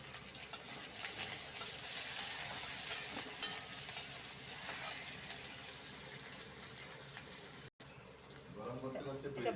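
Chopped tomato hits hot oil with fried onion and crushed ginger and garlic, giving a steady close sizzle with stirring scrapes throughout and a brief break near the end.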